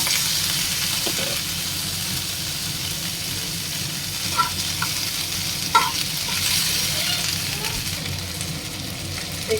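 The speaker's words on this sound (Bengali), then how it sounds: "দুটো শুকনো লঙ্কা দিলাম এটার মধ্যে, আর সবগুলো তুলে দেব। সবগুলোকে ভালো করে মিশিয়ে নেব।" Garlic and dried red chillies stir-frying in a pan, giving a loud, continuous close-up sizzle with occasional soft scrapes and clicks of a stirring spoon.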